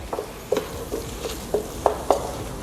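Roasted eggplant dip, the Indian baingan bharta or baba ganoush kind, is stirred in a pan, giving about six soft, quiet scraping clicks of a utensil against the metal at an uneven rhythm, with no voices.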